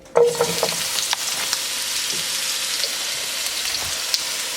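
Sliced onions dropped into warm vegetable oil with a teaspoon of sugar for a stir fry, hissing loudly at first, then settling into a steady sizzle with occasional stirring scrapes, close up.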